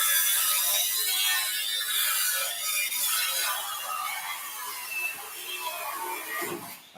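Construction work going on behind a person outdoors in El Salvador, heard as a steady wash of mechanical clatter and scraping at moderate distance, running continuously throughout with no talk.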